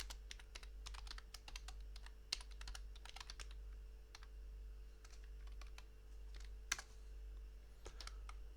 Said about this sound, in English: we can type show tables to list all tables inside this database